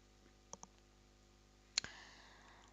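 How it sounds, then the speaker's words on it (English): A couple of soft mouse clicks on a submit button, two quick faint taps followed about a second later by a sharper, louder click, in a quiet room with no talking. "So now click on the submit button."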